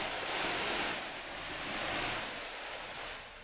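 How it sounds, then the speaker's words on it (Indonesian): A waterfall on the plateau of Mount Losa gives off a steady broadband rush of falling water, faint and continuous with no voices. "kami menikmati air terjun yang ada di dataran Gunung Losa"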